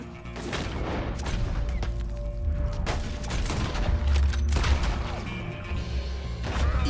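Rapid bursts of gunfire in the video game Red Dead Redemption 2, loud and close, with sharp repeated shots and crashing impacts layered over a dense, busy game soundscape for several seconds.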